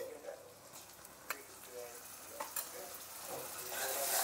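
Ginger-garlic paste fries in oil with potatoes and onions in a pan, a soft continuous sizzle with a few sharp stirring clicks, fairly faint and close, swelling louder toward the end.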